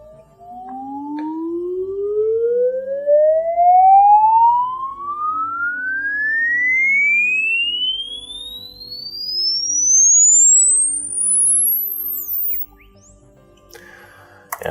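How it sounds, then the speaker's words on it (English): A pure test tone from an STMicroelectronics MKI138 evaluation board sweeps steadily upward from a deep low hum to a piercing high whine, one continuous rising glide at a constant level with no talk. "This will sweep from 20 hertz to 20 kilohertz."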